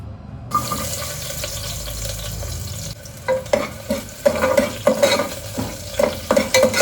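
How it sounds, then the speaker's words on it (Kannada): Chopped onions roast in oil in a pan for chicken biryani, a steady sizzle underneath with rhythmic stirring and scraping bursts growing busier in the second half, close and fairly loud, no talking. "ಲೈಟ್ ಗೋಲ್ಡನ್ ಕಲರ್ ಬರಲಿ ಆನಿಯನ್, ಅಲ್ಲಿ ತನಕ ರೋಸ್ಟ್ ಮಾಡಿ"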